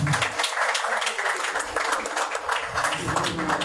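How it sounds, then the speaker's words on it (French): Applause at a ministerial installation ceremony for the incoming Minister of Commerce and Industry, a dense steady wash of many hands clapping throughout, fairly loud and continuous with no clear voices. "Si vos applaudissements, mesdames, messieurs."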